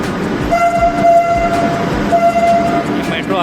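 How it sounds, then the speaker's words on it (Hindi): A Lucknow metro train rolls in with a heavy rumble, and its horn sounds two long tones as it arrives nearby. "ये मेट्रो आ चुकी है।"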